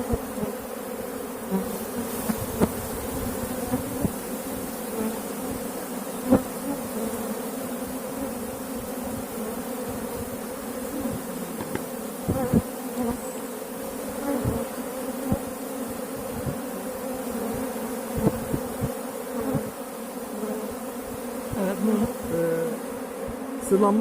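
Honey bees buzz continuously while cleaning honey-laden beeswax combs, a dense swarm hum that wavers in level, with occasional light taps and knocks in the background.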